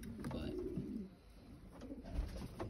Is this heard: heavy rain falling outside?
no